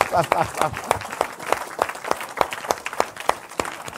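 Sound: congregation applauding in church

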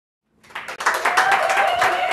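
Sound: audience applause

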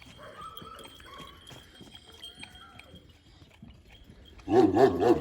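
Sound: Kangal dogs barking at feeding time on a farm

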